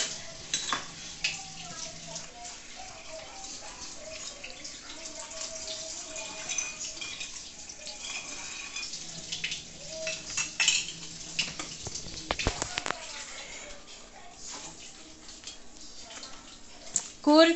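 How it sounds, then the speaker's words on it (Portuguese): An eight-year-old child washes dishes at a kitchen sink, with running water, clinking cutlery and plates knocking together in an irregular clatter, fairly close, with some talk at times. "E pediu pra lavar a louça."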